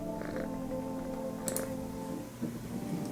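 Soft, steady purr of a cat being petted in a video game, a low continuous rumble heard alone with a faint tick midway.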